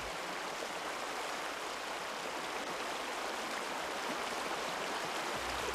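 Water in a mountain stream in Buryeong valley rushes with a steady, dense, broadband roar, close and continuous with no voices.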